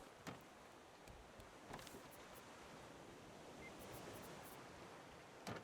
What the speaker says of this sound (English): The sound of waves and nothing else is deafening.